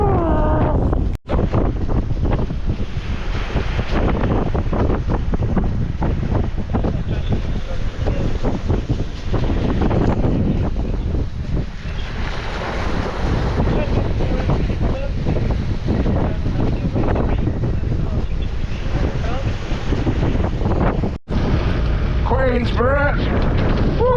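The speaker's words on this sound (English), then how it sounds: "It is gusty." Gusty wind buffets the microphone on a boat voyage toward St Katharine Docks, a loud, continuous roar that swells and eases, with people talking and calling out over it.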